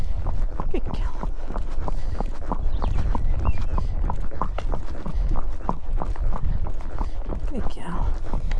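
Hooves of a ridden Norwegian Fjord mare clip-clop in a steady, fairly quick rhythm against a constant rushing background of wind and movement noise.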